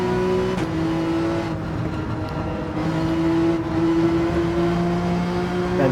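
Porsche 911 GT3 race car in a racing video game, engine droning at a steady high pitch with slight rises and dips in revs, loud and continuous throughout, no voices.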